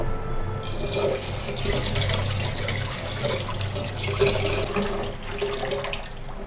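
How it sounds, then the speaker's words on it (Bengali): Tap water runs steadily into a kitchen sink while rice is washed, a loud, continuous splashing flow with slight shifts as the grains are rinsed, close by and without talk. "চাল ধুয়ে ভাত বসিয়ে দেব।"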